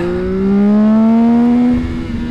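A 2025 CFMoto 675 SR-R motorcycle engine revs up hard and close, its tone climbing steadily for over a second before easing off to a lower drone.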